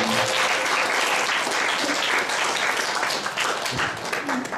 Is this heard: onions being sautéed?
no